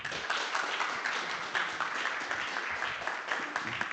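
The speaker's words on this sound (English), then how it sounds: "So please give a round of applause to Thomas." A conference audience claps for the next speaker, a moderate, steady patter of many hands at a medium distance, fairly soft and continuous throughout.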